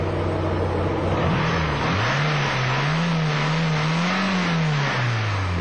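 A VW Golf II GTI 1.8 16V DOHC engine revs up and down several times in a steady, close, loud run, the pitch rising and falling smoothly with no talk over it.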